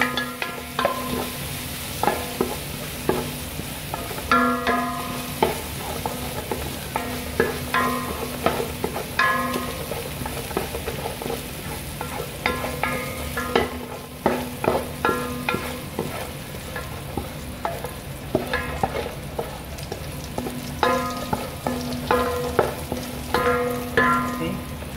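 Garlic sizzles steadily in hot oil in a pan while making beef pochero, a dense continuous crackle and spatter with occasional stirring scrapes, close and even throughout with no talking.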